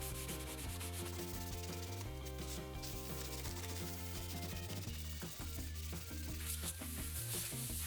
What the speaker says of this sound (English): once the paint is dry, I'll sand the wood a couple of times to remove paint in certain spots